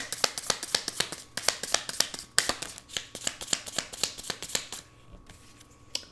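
Tarot cards are shuffled and drawn by hand, giving a quick run of crisp, papery snaps and flicks in an uneven rhythm that thins out and stops near the end, close and clear with no talking.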